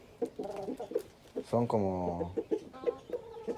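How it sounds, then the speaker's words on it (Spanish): Chickens and roosters at a coop cluck and crow close by, with a drawn-out rooster call in the middle, while people talk in Spanish over and around the birds. "Cuando quieran estos gallos estar con algunas gallinas, aquí están sus gallinas."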